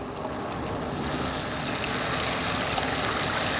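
Bicycle wheels cutting through standing water on a flooded stretch of the Moreton Bay Cycleway, a steady close hiss and splash of spray that runs unbroken from start to finish, with no voices.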